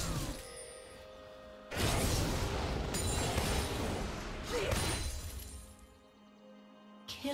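Rumble's Turbo Shock Rockets ability in League of Legends, a series of loud explosive blasts and crashing impacts in two surges over several seconds, ending in a brief quiet gap.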